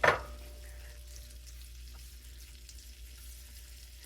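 Chicken thighs fry in butter in a cast iron pan on medium heat, a faint, steady sizzle with a brief louder crackle at the start.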